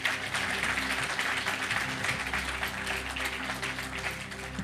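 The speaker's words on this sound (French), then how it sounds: "Il y en a qui applaudissent" A church congregation applauds the worship group after a morning service. The clapping is moderately distant, with a low musical hum or chord sustained underneath.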